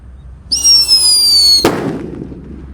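A Whistling Thunder firecracker lit on the ground lets out a loud, piercing whistle lasting about a second, then ends in one sharp, booming bang that rings briefly.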